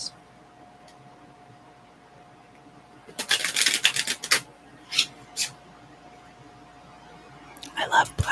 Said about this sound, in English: draw one of these Empyrean